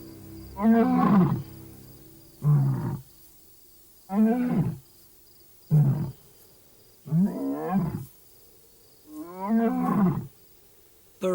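A wild lion delivers a close, loud series of deep grunting roars, about seven bursts in a steady rhythm with short silent gaps between them, no voices present.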